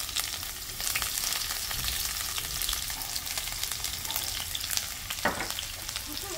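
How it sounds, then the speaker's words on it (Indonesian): Shallots and garlic drop into hot oil and fry with a loud, bright continuous sizzle and crackle, close up and steady, with a brief utensil scrape partway through. "Oke, minyak udah panas. Kemudian masukkan bawang merah. Bawang putih."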